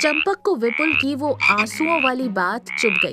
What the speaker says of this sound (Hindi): सिर्फ मेंढकों की आवाज आ रही थी।